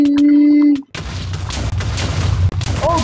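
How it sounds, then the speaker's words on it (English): Explosions in the SkyWars video game: a brief steady tone gives way to a loud, dense, continuous rumble of many blasts that runs to the end with no talk. "Oh god, that's a lot of explosions."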